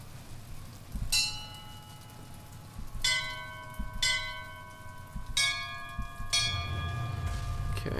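Church bells ring out in Bioshock Infinite, four separate struck peals spaced a second or two apart, each ringing bright and sustained before fading, over a low rumbling ambient bed.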